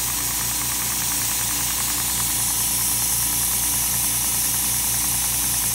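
A small model steam engine runs on compressed air, steady rapid chuffing from the exhaust with a mechanical ticking beat over loud continuous hiss, close and unbroken throughout.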